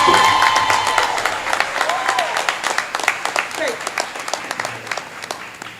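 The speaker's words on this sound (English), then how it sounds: "Would you please give them a round of applause?" An audience applauding two honored students at a school promotion awards ceremony, a full round of clapping that swells and then thins into scattered claps, with voices and cheers mixed in.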